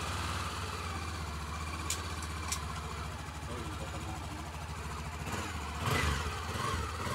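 A Honda XRE 300 motorcycle engine idles with a steady low rumble, a few faint clicks and a brief louder blip near the end.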